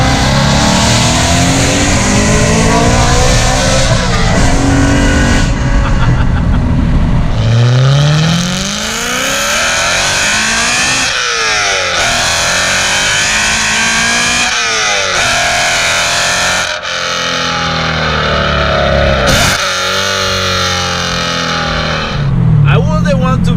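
A BMW M3 fitted with a loud Armytrix exhaust revs hard again and again, each rise climbing to a roaring peak then dropping back to idle, close and very loud, with a voice talking over parts of it.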